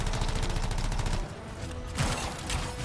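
Shotguns fire in the sci-fi shooter Anthem. The blasts come as a dense, continuous barrage of loud, close bursts with a brief lull, then further shots.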